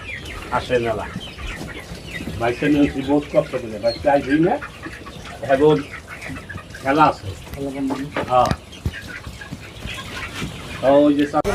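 Broiler chickens cluck and squawk in repeated bursts throughout, close by, with some overlapping speech-like vocal sounds mixed in.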